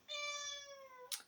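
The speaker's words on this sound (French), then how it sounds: "c'est mon chat." A house cat gives a single clear, drawn-out meow, close and tonal, ending in a short breathy burst, with no talking.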